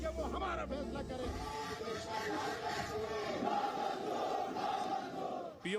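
A large street crowd of thousands in PoK raises a loud, continuous roar of chanting and shouting. The massed voices are rough and sustained throughout, with a steady low rumble underneath.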